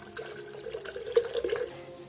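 Water is poured onto used coffee grounds in a short, close trickle that swells briefly and then tapers off, soft and wet, with no voices.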